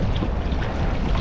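A strong headwind on the Causeway Coast blasts past a sea kayaker, a dense, roaring rush of wind noise that stays loud and unbroken for a short moment.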